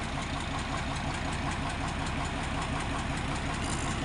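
The main engine of a large fishing boat runs in its engine room, a loud, close, continuous diesel rumble with a steady knocking rhythm throughout.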